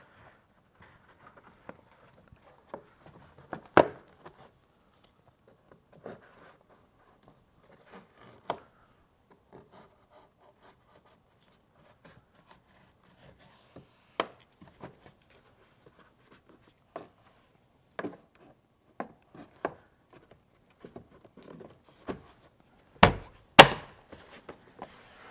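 Small plastic trim tools tap and pry at Tesla Model Y interior trim, giving sparse, quiet clicks and light knocks with long near-silent gaps and a few sharper snaps toward the end.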